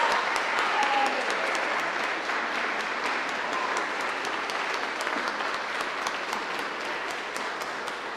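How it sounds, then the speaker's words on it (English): A concert audience applauds vocal performers at a festival finale. The clapping is dense and sustained, spreads across the whole hall and continues steadily throughout. "let's give them a round of applause"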